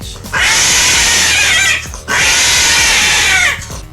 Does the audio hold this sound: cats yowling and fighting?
yes